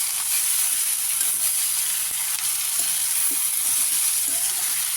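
Vegetables sizzle and crackle in a pan after being poured back in with fried egg, onion and tomato, as a continuous loud frying hiss with soft scraping stirs.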